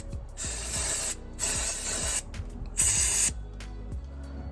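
An aerosol can sprays onto a seized bolt during a car repair in three sustained hissing bursts of about a second each, close and clear, separated by short pauses with faint clicks.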